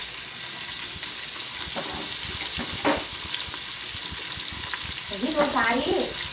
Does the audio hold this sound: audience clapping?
no